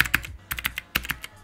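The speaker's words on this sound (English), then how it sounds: "This is what a typical cheap cherry blue switch sounds like." Cheap clicky Cherry Blue keyboard switches typed in close, crisp bursts of sharp clicks with brief pauses between groups of keystrokes, loud and with no voices.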